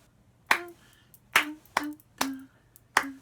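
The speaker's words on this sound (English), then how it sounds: "Now we're going to clap the rhythm of the tune after 3." Hands clap out the rhythm of a tune, five sharp claps spaced unevenly across a few seconds, close and clear against a quiet background with no talking.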